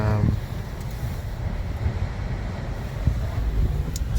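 Strong wind in Wellington buffets the microphone in a steady, heavy roar with gusty low rumbling throughout.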